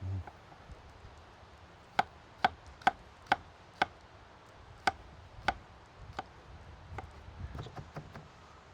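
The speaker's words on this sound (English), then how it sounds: "finely minced clove of garlic" Knife finely mincing a garlic clove on a cutting board, about a dozen crisp, sharp chops in an uneven rhythm, clustered near the start and then more sparse, close and distinct against a quiet background.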